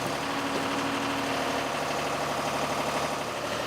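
Steady idling engine of a mobile elevating work platform during function tests, a constant low mechanical hum and vibration with an even level and no talk.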